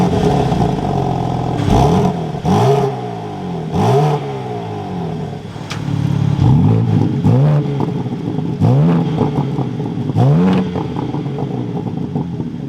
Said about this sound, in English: let's fire this up and take a listen to how the M4 sounds